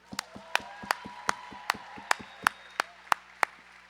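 Crowd at a roller derby bout clapping for the volunteers and officials, sharp claps in a steady even rhythm, fairly close, in a reverberant hall.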